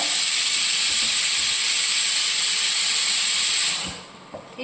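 A pan heats on the stove before cooked rice goes in. A loud, steady hiss fills the first few seconds, then cuts off abruptly and leaves a faint, quiet tail.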